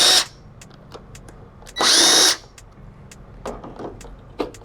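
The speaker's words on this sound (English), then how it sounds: "you can use your drill right here and just remove it" A power drill backs screws out of the front tank of a Solaris, two short loud whirring bursts separated by quieter clicks and handling knocks close by.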